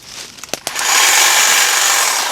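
Greenworks 24 volt cordless trimmer cutting through brush while clearing land at Cedar Oaks, a few sharp snaps and knocks followed by a loud, steady high-pitched whine and rasp of the line close by.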